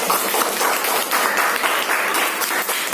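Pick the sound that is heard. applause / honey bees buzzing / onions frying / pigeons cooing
applause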